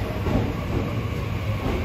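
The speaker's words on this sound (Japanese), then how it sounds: "ホームにもね、普通列車ここ止まりが入ってきましたね。" A local train pulls in at a platform of Nagoya station, a steady low rumble and rolling hiss of the carriages heard continuously at moderate level with no talk.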